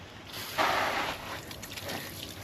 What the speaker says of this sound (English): let's go ahead and rinse it with some cold water